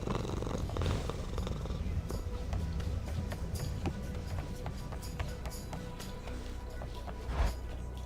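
A cat purrs close up with a continuous low rumbling texture, joined by light taps and small movement sounds throughout.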